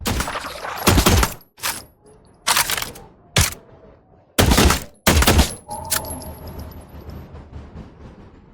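Gunfire in The Last Caretaker video game: several loud, sharp bursts fire in an irregular rhythm over about six seconds, separated by short quiet gaps, with faint ambient tones lingering afterward.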